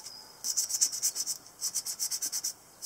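Sandpaper rubbing a brass pen barrel to roughen it for glue, heard as about a dozen quick rhythmic strokes in two bursts with a short pause between, close and fairly soft.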